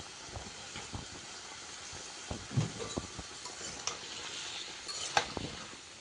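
Bottle gourd pieces are stirred with spices in a pan, giving a faint, soft sizzle with scattered scrapes and knocks of a spatula against the pan.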